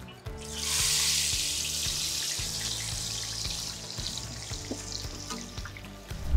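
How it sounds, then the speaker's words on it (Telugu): Onion slices drop into hot oil already seasoned with cinnamon, cloves and cardamom, while preparing a raw banana pulusu, raising a loud, steady hiss of frying that stays continuous and close, with small crackles and no talking. "చెక్క లవంగా యాలకాయలు నూనె వేసినాక ఉల్లిగడ్డ వేస్తున్నా"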